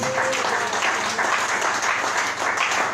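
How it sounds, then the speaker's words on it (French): A church congregation bursts into dense, sustained applause that stays loud and continuous from start to finish. "Acclamons pour le Seigneur Jésus"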